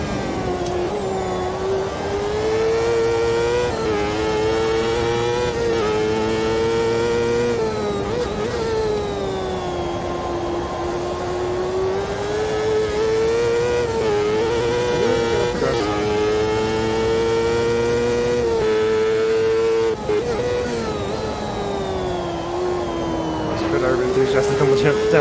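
A race car engine in Automobilista 2 howls steadily through gear changes, its pitch dropping and rising again on downshifts before climbing under throttle, a continuous loud tone running throughout.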